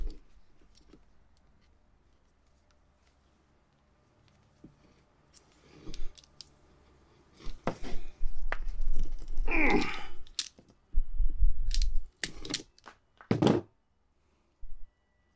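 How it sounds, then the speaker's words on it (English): Tin snips cut through scored plastic while wiring a split charge relay into a VW T4 van, giving a run of close, sharp snapping crunches and thunks after a quiet start, with a final clipped snap near the end. "gonna score the plastic. And then use my snips here."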